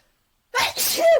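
A single sharp sneeze bursts out of silence, close and fairly loud, with a brief intake before the release.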